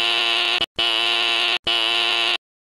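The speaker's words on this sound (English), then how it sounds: "Stop ringing my frickin' buzzer and come in" A door buzzer rings in three long, harsh electronic bursts separated by short gaps, loud and close, with no talking.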